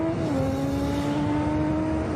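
A motorbike racing at high speed through the Bois de Boulogne in a chase, its engine holding a loud steady drone with a slight pitch drop near the start.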